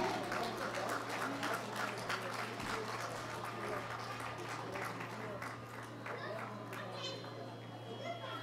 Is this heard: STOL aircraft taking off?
no